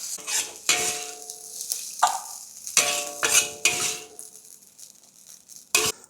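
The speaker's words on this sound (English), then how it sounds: "Give it a final stir, and that's it." Yangzhou-style fried rice with char siu and shrimp is stirred in a hot wok, metal utensils scraping and clanking in several sharp bursts over a light sizzle, close and fairly loud, with no voices.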